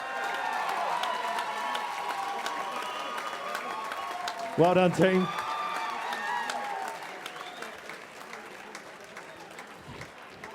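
Audience applause and cheering for a female fighter at a charity fight event, a steady crowd bed under speech, with a brief louder burst midway before fading toward the end.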